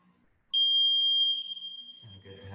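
A timer alarm gives a loud, sustained electronic tone for about a second during a stretching session, fading away as a voice starts talking.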